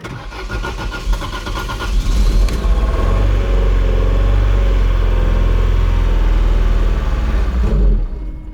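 A 1997 Opel Tigra engine runs on its own after starting, a loud, steady mid-pitched drone with rough low rumble that holds continuously for several seconds before easing off at the end.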